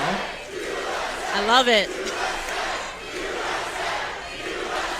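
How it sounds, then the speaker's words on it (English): A crowd at a speech shouts down protesters, with a sustained roar of many voices and one prominent rising chant-like yell, while a voice speaks over the din. "Most of the crowd is just drowning them out right now."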